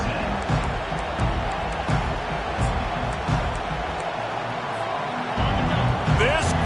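A dense, roaring crowd at a college football game cheers loudly and continuously around a kickoff return, with broadcast commentary talking over the steady din.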